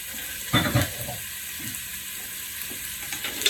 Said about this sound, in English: sauteing a little bit